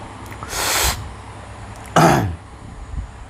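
A man with an illness coughs twice, close and fairly loud, with a short pause between the two harsh bursts and a faint throat sound afterward.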